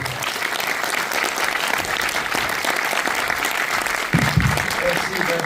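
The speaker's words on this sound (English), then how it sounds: "je vous demande d'applaudir" An audience in a Paris Pathé Alésia cinema applauds a director's introduction at a preview screening, a sustained, even roar of many hands clapping with a brief voice rising near the end.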